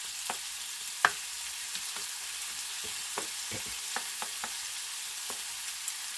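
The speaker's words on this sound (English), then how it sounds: "we're just going to let that cook a couple minutes until the bacon is fully cooked" Bacon and peaches frying in a pan give a steady, even sizzle, with scattered sharp pops and a few soft scraping clicks, heard up close and with no talk.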